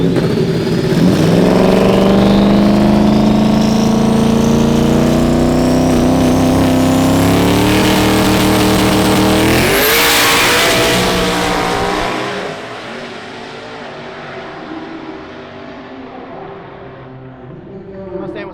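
Dodge Demon 170 launching down a drag strip at a street car meet, a loud engine roar climbing through rising revs and gear changes, then fading into the distance as the car pulls away.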